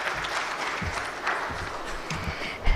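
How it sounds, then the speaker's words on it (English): Audience applause after a conference presentation at INFOCOM 2025, a steady wash of clapping hands from a seated crowd, moderately loud and continuous throughout. "Let's give a bigger round of applause one more time, ladies and gentlemen"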